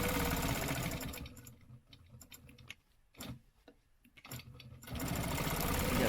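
A sewing machine stitches a fence-picket stencil pattern across a quilt in rapid mechanical bursts, pausing briefly in the middle before running steadily again.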